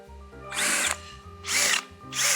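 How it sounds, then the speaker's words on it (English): Power tool chamfering the back side of holes in a machined metal part, three loud bursts of cutting whine about a second apart over a low workshop hum, no talk. "we'll go ahead and chamfer these holes here"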